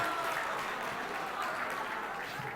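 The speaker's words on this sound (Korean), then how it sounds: "우리 큰 박수로" Children at a church Sunday school gathering give a round of applause, a soft, fairly distant patter of clapping that runs steadily throughout with a faint murmur of voices underneath.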